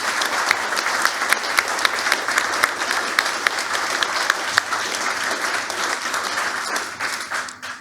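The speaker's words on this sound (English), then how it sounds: "Can we give them a round of applause?" An audience at a presentation and panel event claps in sustained, dense applause that holds steady for several seconds before starting to fade at the end.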